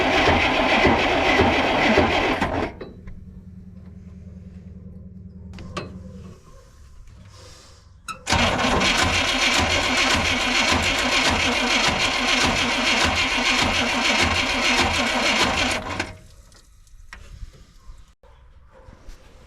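The engine of a 1957 Chevy 4x4 with a fuel pump problem cranks, then catches and idles roughly for a few seconds. After a pause it cranks again, and a loud, steady run with a throbbing idle follows before it cuts off.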